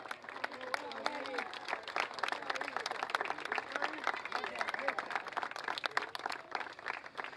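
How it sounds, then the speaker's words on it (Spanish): Applause from the crowd at the Plaza Huincul anniversary rally awards ceremony, distant and faint, steady dense clapping with a voice over it. "¡Aplauso!"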